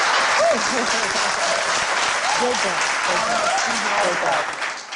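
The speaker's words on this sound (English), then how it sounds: "You need an applause. You need an applause." A studio audience on a teen talk show gives a teacher loud, dense applause that lasts throughout. Voices can be heard talking over the clapping, and the applause fades out at the end.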